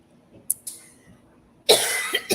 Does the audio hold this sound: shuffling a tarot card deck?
no